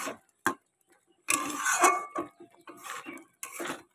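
A pot of thickened milk lifted off the heat and poured into a vessel, with sharp metallic clinks of the pot, then a longer scraping, pouring clatter and a few more knocks, close and clear.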